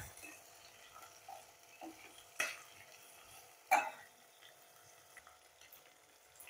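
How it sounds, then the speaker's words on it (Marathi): Ivy gourd and carrot are stirred in a pan with peas, a faint soft sizzle underneath a few light scrapes and two sharper clinks of a spoon against the metal. "वाटाणा टाकून झाला की तोंडली आणि गाजर हे आपण परतून घेऊया."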